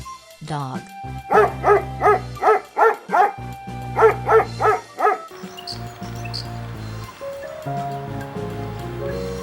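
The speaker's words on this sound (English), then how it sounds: "Dog." Dog barking in a sequence of nine evenly spaced, loud barks in two quick groups, followed by music and a surf-like wash.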